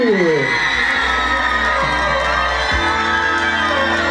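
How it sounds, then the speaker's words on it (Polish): A loud crowd at a student festival Miss pageant cheers, whoops and shouts for a contestant, a dense continuous roar of voices close by. "Dla kandydatki numer dwa, brawa i okrzyki!"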